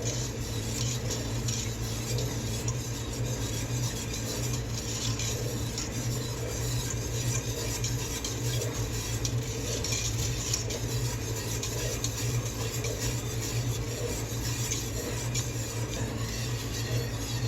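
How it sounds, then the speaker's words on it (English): Apple scrap jelly is stirred continuously in a pot at a rolling boil, a close steady scrape of spoon against the pot over a bubbling roil, with no break in the motion. "Stir, stir, stir. At this point, don't stop stirring."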